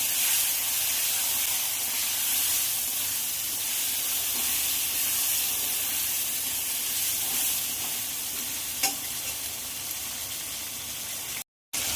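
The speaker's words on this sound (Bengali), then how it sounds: "টমেটো, হলুদ, নুন দিয়ে আলুটা একটু ভাজা ভাজা হয়ে গেছে" Potatoes fry in hot oil with tomato, turmeric and salt, giving a dense, even hiss and sizzle that stays loud and constant throughout, broken only by a brief cut near the end.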